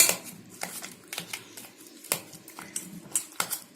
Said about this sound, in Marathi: आता आपण हे एका बाउल मध्ये घेऊया आणि त्याला छान स्मॅश करूया